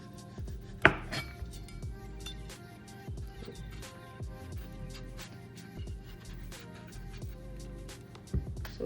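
Knife chopping through cucumber on a cutting board, a series of crisp, close taps in an uneven rhythm, with one sharper knock near the start.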